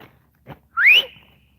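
One short, loud rising whistle to call a dog rings out close by, preceded by a faint soft thump and followed by quiet.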